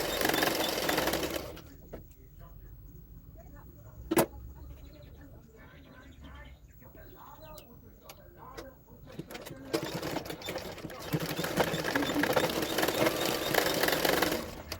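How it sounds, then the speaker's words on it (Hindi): A sewing machine stitches the shoulder seams of a double katori blouse, running loudly at the start, falling quiet through a middle stretch, then whirring again in a long closing run. "अभी शोल्डर को भी सिला लूँगी।"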